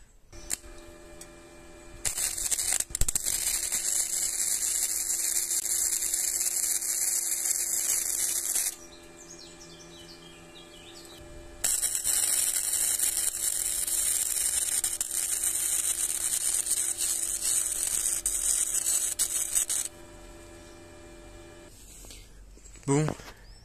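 Parkside welder laying a bead on thin 1 mm car body sheet metal, a loud steady crackling hiss in two long runs of about seven seconds each, broken by a quieter pause.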